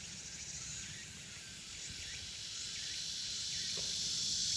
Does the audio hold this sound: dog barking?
no